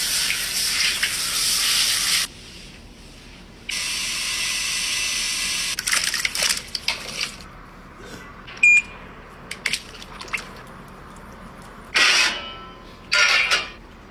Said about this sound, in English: She's having a shower.